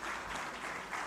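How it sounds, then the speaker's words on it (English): An audience at a university security and policy conference applauds the Prime Minister in a brief, fairly soft burst of massed clapping that stays even from start to finish. "a hand of applause is in order"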